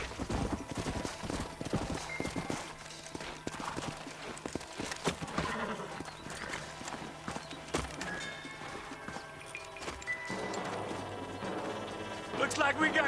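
Horses' hooves clip-clop in a Red Dead Redemption cutscene, steady trotting beats mixed with a horse's whinny, game music and background rustle, at moderate distance and fairly quiet.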